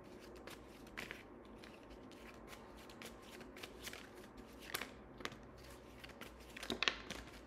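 Tarot cards being shuffled by hand, a steady run of soft papery riffles and flicks with a few sharper snaps, close and fairly quiet with no talking.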